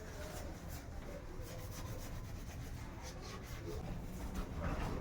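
A scrub pad rubs over a kitchen surface in a continuous close, gritty scrubbing with no pauses, at a fairly low level.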